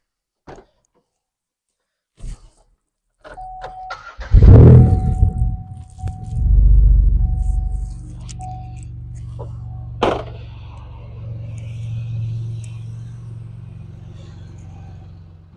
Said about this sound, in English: I'm now going to start the car, turn the heat to full